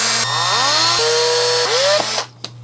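A handheld drill whines close up, its pitch rising and falling in several short bursts as it bites through a tiny drone frame, then spins down and stops.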